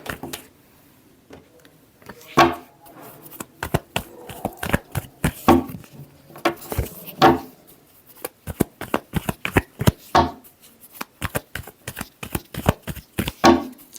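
Tarot cards are shuffled close up in repeated quick riffling bursts, crisp papery flutters and taps arriving in irregular clusters with short pauses between, heard alone without talk.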